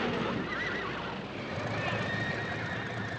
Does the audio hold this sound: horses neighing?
yes